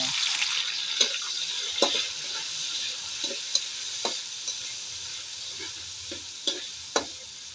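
Tomato and eggplant fry in a pan with a steady, soft sizzle, broken by scattered clicks and taps of stirring, heard up close with no talking.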